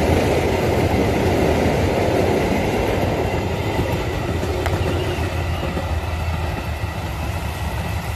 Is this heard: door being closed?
no